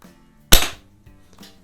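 A single sharp crack from an older smooth-bore air rifle, a Quackenbush No. 1 or Crosman 110 Town and Country, fired at a target, loud and close with a quick decaying tail and faint handling noise after.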